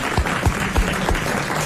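Studio audience applauding on a 1994 French television talk show: a steady, dense wash of clapping from many hands, fairly close and loud, with a few heavier claps standing out.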